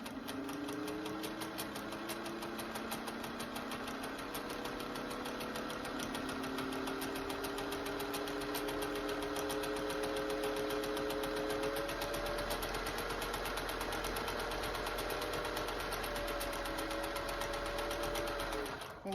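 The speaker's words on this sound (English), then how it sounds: "we're going to stitch down the underarm seam, and you're going to do that for both of your sleeves" A vintage Singer 201 sewing machine stitches an underarm sleeve seam at about 10 stitches per inch, a steady, rapid mechanical whirring and ticking that continues close and even throughout, with a faint motor whine rising and falling.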